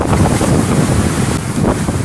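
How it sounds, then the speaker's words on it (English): Ocean waves wash in a steady, loud roar, heavily mixed with wind buffeting the microphone, with no voices. "Part of the sounds of the waves."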